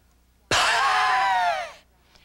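A person does a diaphragmatic exhale with lips together, producing one sudden, loud, breathy wheezing rush of air that holds for about a second and then fades, with quiet before and after.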